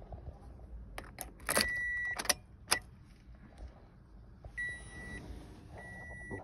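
A key jangles and turns in a 2014 Toyota RAV4 ignition, followed by a few short electronic chimes and beeps from the dash, quiet and close in a still cabin.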